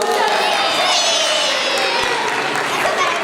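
A school prize-giving crowd bursts into steady applause and cheering for the second-place Cercivento primary school, a dense, continuous roar of clapping and voices.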